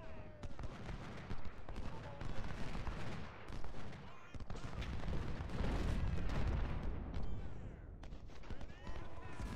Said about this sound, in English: volley that artillery